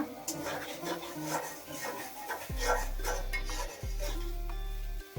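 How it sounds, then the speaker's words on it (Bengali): Cabbage being sautéed with spices and mustard paste in a pan: a spoon scrapes and clinks against the metal in quick strokes, then a loud, steady droning hum sets in twice. "মশলার সাথে ভালোভাবে কষিয়ে নেব এইভাবে একটু ভাজা ভাজা করে নেব"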